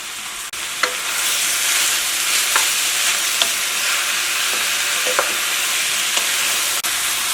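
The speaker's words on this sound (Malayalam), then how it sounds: "ഇടയ്ക്ക് നമുക്കൊന്ന് ഇളക്കിയിട്ട് കൊടുക്കാം" Ivy gourd stir-fry sizzling in a pan while being stirred, a steady loud frying hiss broken by light irregular scrapes and taps of the spoon.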